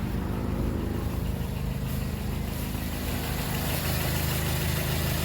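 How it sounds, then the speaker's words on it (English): A car engine with its alternator removed idles steadily, giving a constant low rumble and hum with a slight vibration throughout and no other sounds. "We're going to start this vehicle that does not have an alternator in it."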